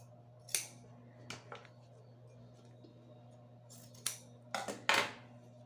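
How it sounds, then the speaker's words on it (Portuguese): Scissors snip through leftover fabric lining while a shoulder bag is being sewn, giving several sharp, close cutting clicks spaced irregularly over a faint steady hum. "eu vou cortar o excesso de forro aqui, o que sobrou"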